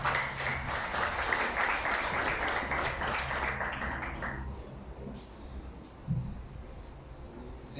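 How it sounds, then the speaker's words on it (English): An audience applauds at a ceremony for the Polytechnics Mauritius Capstone Showcase Day. The dense, steady clapping fills the first four seconds, then fades into a quiet hall with faint room noise. "with a round of applause, we will now like to invite the chairperson of Polytechnics Mauritius Limited, Professor Tishan Bahawan"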